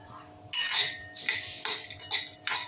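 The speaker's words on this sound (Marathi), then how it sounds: "लसूणसुद्धा चांगला परतून घेऊया" Garlic sautéing over medium heat while a spoon stirs it in a pan, giving several sharp bursts of metallic scraping and clinking separated by brief quiet gaps, close and fairly loud.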